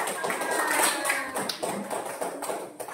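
Schoolchildren in an Indonesian primary classroom clap their hands, a brief, uneven patter of claps at close range with some voices mixed in.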